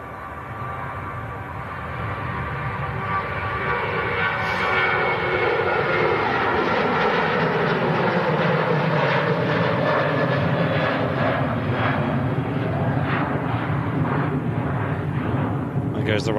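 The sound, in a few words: Ryanair Boeing 737 airliner flying past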